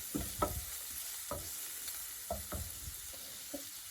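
Homemade red chili fries in oil in a pan for pasta, a faint steady sizzle broken by intermittent scraping stirs, quiet and close with no voices.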